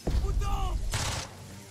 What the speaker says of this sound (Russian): Ладно, следующий выстрел добьет.